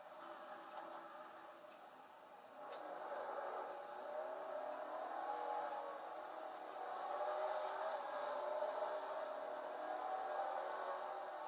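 Race car engines in the iRacing sim game drone steadily with a layered, continuous roar that swells slightly midway, sounding like a field of cars idling and rolling at pace with no talk over it.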